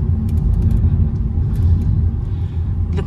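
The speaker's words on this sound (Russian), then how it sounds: "Едем вот на такой Мазде красной" A red Mazda car on the road, heard from inside as a loud, steady low engine and road rumble, with faint ticking sounds over it.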